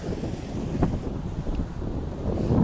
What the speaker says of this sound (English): It's getting quite gusty